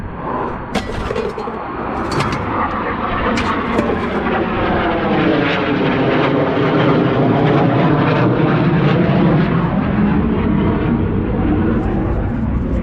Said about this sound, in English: Love jet noise.